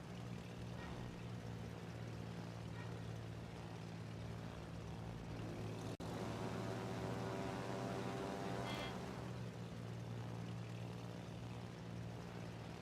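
Aircraft propeller engines in World of Warships naval battle game, a steady droning hum with a constant tone running throughout, loud and unbroken, with a brief glitch midway.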